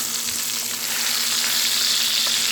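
Pork chops frying in a pan, nearly done, making a dense, even sizzle and crackle close up that holds steady throughout with no talking.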